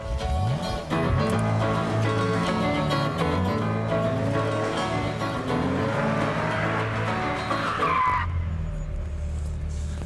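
Ferrari F355 on a race track, loud continuous tyre squeal and skidding layered over a revving engine, close and sustained, then an abrupt drop near the end.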